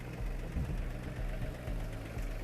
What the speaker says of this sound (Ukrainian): Трьохциліндровий двигун працює дуже рівно, не сапунить, не димить